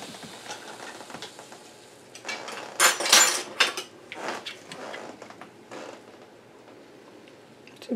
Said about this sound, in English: We're going to mix everything together here, and we're just going to keep stirring it until it gets nice and creamy.